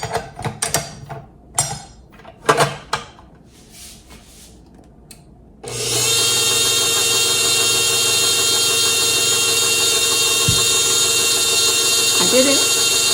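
A 6-quart KitchenAid Pro 600 stand mixer with a fresh planetary assembly runs with its paddle attachment, a loud steady whir and hum that starts abruptly partway through after some scattered handling knocks and clatter.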